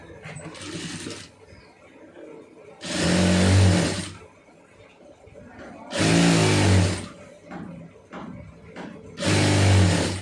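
A home sewing machine stitches a folded hem in three loud mechanical bursts of rapid needle chatter, each about a second long, separated by quieter handling noise and soft talk.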